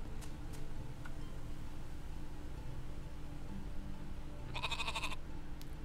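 A single video-game sheep bleat rings out near the end, brief and fairly clear, over a quiet, steady background hum.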